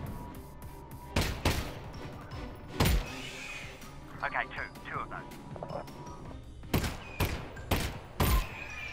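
Gunshots fired in the Half-Life VR video game, sharp loud reports scattered irregularly, a cluster near the start and more toward the end, with a person talking in between.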